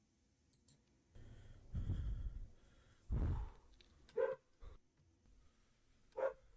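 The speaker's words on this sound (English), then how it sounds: "It's so loud in my ears, the breathing." Heavy, close breathing from the found-footage horror short The Backrooms by Kane Pixels comes in two or three long, loud rushes, with faint clicks and short sharper bursts between them and no talking.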